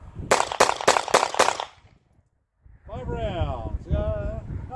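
Five rapid pistol shots from a Ruger Max 9 crack out in an even, fast string at close range, then a short pause before a person speaks.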